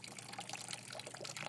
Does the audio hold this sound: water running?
yes